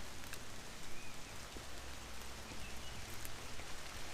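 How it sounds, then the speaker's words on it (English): Steady, faint patter of rain falling in woodland. It forms an even wash with no other clear sounds. "it really is raining now"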